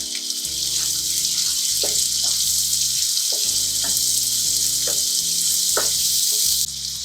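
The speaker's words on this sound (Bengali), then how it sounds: "এবার এতে দিয়ে দিচ্ছি 2টো মিডিয়াম সাইজের টমেটো কুচি" Chopped medium tomatoes hit hot oil in a Bombay duck masala, giving a loud continuous sizzle with scraping stirring strokes and clinks of a utensil against the pan, and the hiss dropping slightly at the very end.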